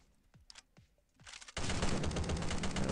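AK-47 automatic fire in the stick-figure shooter Stick Warfare Blood Strike: a few soft clicks, then a loud, sustained rapid burst that runs without a break to the end.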